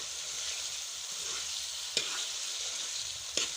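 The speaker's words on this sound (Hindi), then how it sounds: "अब इसको अच्छे से आपने फ्राई करना है ताकि सारा मसाला जो है वो मटन में शामिल हो जाए" Boiled boneless mutton frying in spiced masala in a pan, a steady close sizzle with two sharp stirring scrapes standing out.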